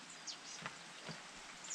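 Faint, steady rain patters over a vineyard as a soft, even hiss, with a few light drips standing out and no voices.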